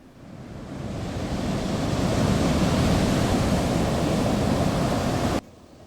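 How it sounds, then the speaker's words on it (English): A gargantuan tidal wave surges and crashes in a loud, sustained roar of churning water that builds over several seconds, then cuts off abruptly to quiet. "A gargantuan tidal wave loomed over Ulterion."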